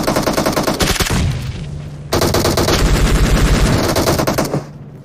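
Rapid automatic gunfire rattles loud and close in a first-person shooter game, two long sustained bursts separated by a brief lull, with no talk over them.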